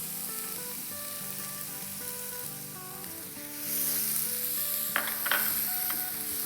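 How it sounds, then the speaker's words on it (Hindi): Finely chopped onions hit about two tablespoons of hot oil in a pan, sizzling softly under quiet background music, the frying growing louder midway with a few sharp crackles and stirring clicks. "इसमें हम अराउंड डालेंगे 2 टेबलस्पून तेल और साथ ही इसमें हम डाल देंगे 1 कप चॉप की हुई प्याज"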